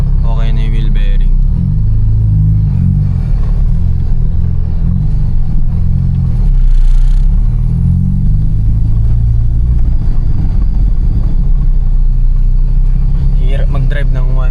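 A Honda Civic EG hatchback with noisy rear shocks on the road: a steady low cabin rumble from engine and tires runs throughout, under someone talking most of the time.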